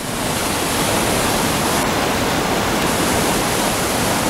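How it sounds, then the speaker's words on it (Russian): Fast-moving floodwater rushes loudly and continuously through a ravine in spring, a dense broadband roar like a torrent pouring through a channel, with no voices. "Смотрите-ка, удивительно, какая быстрота течи воды!"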